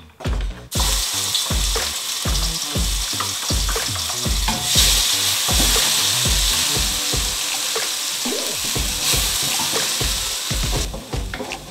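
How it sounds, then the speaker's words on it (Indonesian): Ground spice paste for opor ayam sautéing in hot oil, a loud continuous sizzle close up with repeated scraping strokes of a spoon stirring the pan. "Ditumis sampai dia harum ya"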